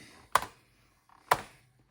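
Two separate keystrokes on an Oril BK-08 computer keyboard, sharp clicky taps about a second apart with near silence around them.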